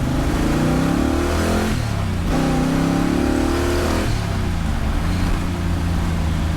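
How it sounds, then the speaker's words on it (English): A 1968 Corvette shooting brake with a 572 big block V8 accelerates hard in second gear, its deep roar rising in pitch, dipping briefly at each shift, then climbing again, loud and close. "we'll do a little second gear. We're gonna roll into it."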